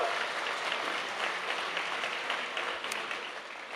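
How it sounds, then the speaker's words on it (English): Sustained applause from a gala audience for event sponsors at an anniversary celebration, a steady dense wash of clapping that holds throughout without speech. "Let's give them another round of applause, everyone."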